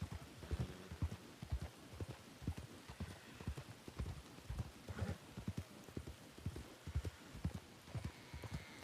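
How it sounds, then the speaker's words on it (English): Hoofbeats of a horse and rider in the RedM western game clop in a steady rhythmic gait, fairly close and prominent, with a faint rainy wash beneath. "Got a rider behind us. Heard that. Rider behind."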